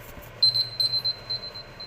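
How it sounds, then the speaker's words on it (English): A kitchen timer alarm goes off during home cooking, a run of short, high electronic beeps in quick bursts, moderately loud over faint background noise. "There's the timer."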